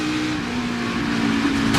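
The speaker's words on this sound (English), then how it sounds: "You hear Daniel out of the gas." An on-board NASCAR race car engine at Michigan holds a loud steady roar that eases slightly as the driver lifts off the throttle, close and alone.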